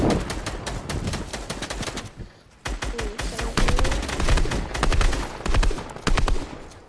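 Loud gunfire in the video game Fortnite, with rapid bursts of shots in quick succession and a brief pause partway through, close and dominant with no talk over it.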